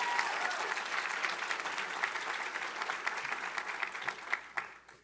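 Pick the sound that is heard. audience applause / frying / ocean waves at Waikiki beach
audience applause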